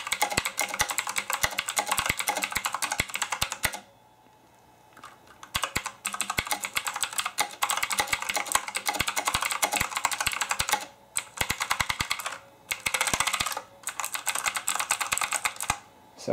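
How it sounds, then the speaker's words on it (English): Loud, rapid clicky typing on a MAD GIGA K400 gaming mechanical keyboard with blue switches, dense keystroke bursts broken by two short pauses, close up with no talking. "that's, again, the sound and how loud the keyboard gets"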